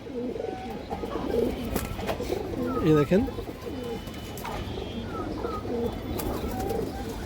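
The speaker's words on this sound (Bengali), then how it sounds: "চুইঠাল বা জুটিয়ালা একটা মাদি কবুতর" A female Chuitthal (Jutiyala) pigeon with a short boot-type beak coos in repeated low rolling phrases, close by, while someone talks over the cooing.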